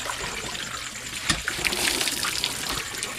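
Water is poured in a steady, close splashing trickle that swells slightly midway and runs continuously, with no voices.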